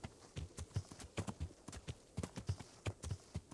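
Horse hooves clip-clop steadily in the medieval game Kingdom Come: Deliverance, a brisk uneven rhythm of close, moderately loud hoofbeats with no talk.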